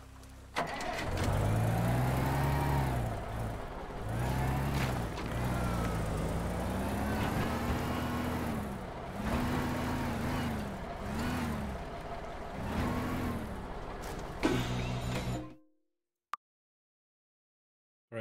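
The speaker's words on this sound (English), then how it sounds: "I found a garbage truck." Garbage truck engine in the video game Teardown rumbles loudly, its pitch rising and falling through repeated revs for about fifteen seconds before cutting off abruptly to near silence.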